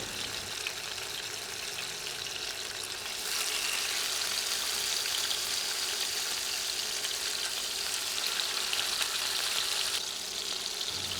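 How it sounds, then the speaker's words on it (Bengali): Fish fries in a pan with a steady, dense sizzle that fills the clip, growing a little louder partway through and staying constant without talk. "প্রথমে মাছের এক পাশ ভেজে নিব এক দেড় মিনিট ভাজলেই হবে"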